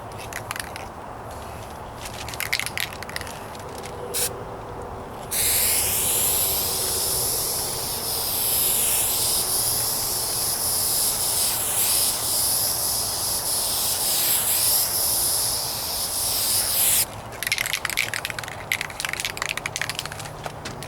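Duplicolor rattle can spraying clear coat onto the hood of a 1998 Toyota Corolla: a loud, continuous aerosol hiss lasting about twelve seconds, with crackling handling noises and rattling before and after.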